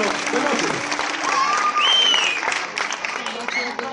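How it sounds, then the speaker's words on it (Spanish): Audience applause and cheering for the Combo Latino band at a live Latin dance event, a dense roar of clapping and voices lasting throughout, with a few whistles rising above the crowd. "fuerte el aplauso para el Combo Latino de noche"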